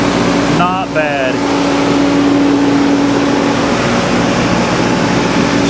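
An old Corvette convertible engine idles a little high with a steady, close, continuous rumble and hum. It has an oil leak at the exhaust manifold, and a brief higher whine sounds near the start.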